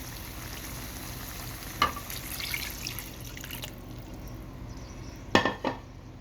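Water goes into beef karahi frying in plenty of oil in a pot, giving a steady background sizzle with a sharp hiss and clatter near the middle and a louder burst toward the end.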